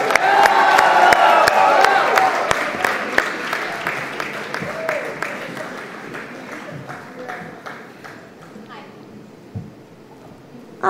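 A live audience at the WOW 2019 event in Mumbai greets Bollywood actress Alia Bhatt coming on stage with sustained clapping, cheers and whoops that are loud at first and slowly fade over about eleven seconds.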